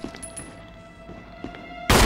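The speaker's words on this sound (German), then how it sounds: "jetzt habe ich einfach 6 Schuss verballert." Gunfire in the video game Resident Evil: a few sharp, scattered shots over a low electronic hum, then a loud sustained burst of firing at the end.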